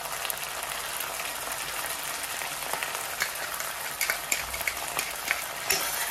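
Chicken pieces coated in soy sauce, tomato sauce and chilli sauce are stirred in a pan, giving a steady soft sizzle with intermittent scraping and clinking of the spoon against the pan, close and fairly quiet, with no talking.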